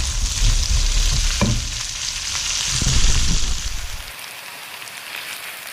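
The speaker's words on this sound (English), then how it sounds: "Just want them sauteing, not burning." Onions and spices saute loudly in a pan for a goat curry. A strong, dense sizzle fills the clip alongside a few clatters of stirring, then eases to a softer fry near the end.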